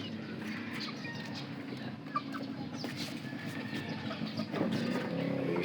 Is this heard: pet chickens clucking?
yes